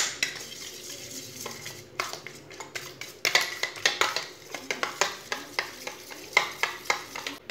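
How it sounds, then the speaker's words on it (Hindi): Three eggs with salt and garam masala are beaten in a bowl, a utensil clinking against the side in a quick, steady rhythm that grows louder and more regular partway through. "3 अंडे, आधी चमची नमक डालेंगे, 1 चमची गरम मसाला डालेंगे, अच्छी तरह मिक्स कर लेंगे।"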